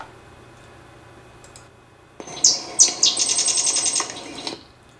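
A sedge wren call from a field recording: a quick burst of sharp chirps followed by a rapid, evenly spaced chattering trill over faint background hiss, lasting about two seconds in the middle of the clip.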